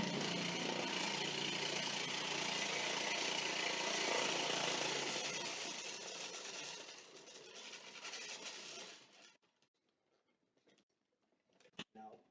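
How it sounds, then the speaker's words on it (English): Food processor grating cold butter for pie dough, a loud, harsh, steady whirring grind for about nine seconds that fades and cuts out, followed by near silence and a brief clack. "Now I'm going to grate my butter in through. It's probably going to make a horrible noise."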